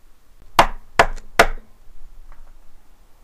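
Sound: knocking on a door

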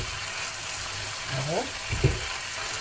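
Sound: chicken pieces frying in oil

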